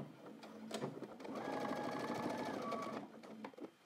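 A sewing machine backstitches the start of a seam on a men's trench coat, a short burst of stitching, a pause, then a sustained steady run of rapid stitching before slowing and stopping, close and alone.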